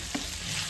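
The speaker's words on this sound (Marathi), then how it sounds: "कांदा टोमॅटो छान असं भाजून झालेला आहे" Onion and tomato sizzle and get stirred in a frying pan for a cashew curry, a brief, soft scrape and hiss that is steady apart from one small bump of stirring.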